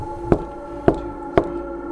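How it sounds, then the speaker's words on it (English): Three evenly spaced knocks on a door, crisp and close, with a resonant hollow ring after each, before a ghost paper challenge. "I'm gonna knock 3 times"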